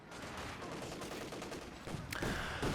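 Machine gun fire in the World War II strategy game Company of Heroes 2, rapid distant rattling bursts with heavier cracks and a louder close burst near the end, no speech over it.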